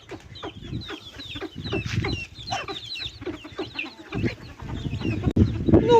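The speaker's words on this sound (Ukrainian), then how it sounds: "Півник дуже кличе, ще не всі курчата позбігалися зараз." A rooster gives rapid, repeated clucking calls close by in a village yard, mixed with high chirps from chicks and scratching, rising and falling in bursts.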